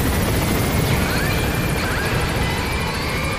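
Steady whirring rotor drone of a video game helicopter, loud and continuous throughout with a dense rumbling texture.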